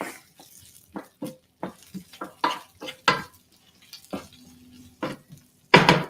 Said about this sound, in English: This is why it's good if you can hear it frying.